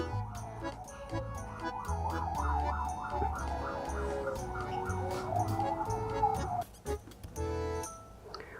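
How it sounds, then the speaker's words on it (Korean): An ambulance siren wails in a repeating up-and-down pattern, fairly close and steady, then fades out near the end with some background rustling. "자, 앰뷸런스 불렀으니까 이제 병원으로 가요"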